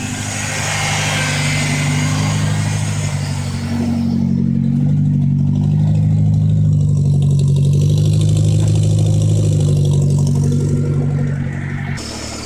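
A Ford 2.3 turbo engine swapped into a 1984 Bronco II runs loud and close, starting with a rough rev before settling into a steady, throbbing idle that continues throughout.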